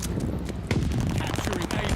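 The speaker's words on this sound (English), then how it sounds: "Mortars incoming." Incoming mortar fire in a military shooter video game: dense, crackling bursts of gunfire and thumping impacts pile up continuously, with a heavier hit partway through and faint voices mixed in.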